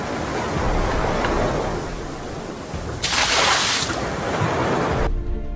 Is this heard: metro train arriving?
no